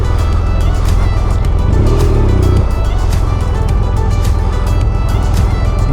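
A car drives along a road between Caracas and Colonia Tovar, its engine rumbling loud and close and the tires roaring continuously, with a brief lower thump partway through.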